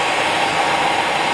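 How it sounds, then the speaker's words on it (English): A hairdryer blows steadily on a tippet octopus wet fly during fly tying, a loud, even, continuous rush of air. "a quick blow with the hairdryer and you'll see its shape better"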